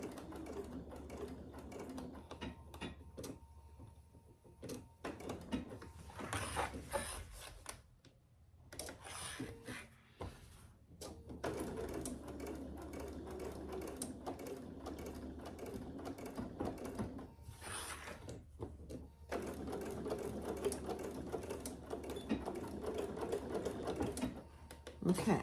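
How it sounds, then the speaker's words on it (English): A sewing machine runs in short bursts, adding a few extra stitches along the straight edge of a clutch bag, its soft ticking clatter stopping and starting with brief pauses. "I just did a couple extra stitches on the straight edge just to give it a little more security"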